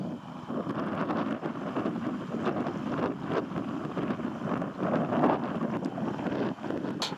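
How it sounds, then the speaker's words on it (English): Strong wind buffets the microphone in a constant rough roar, with gusty bursts and no voices, on the coast at Mount's Bay, Cornwall. "It's incredibly windy."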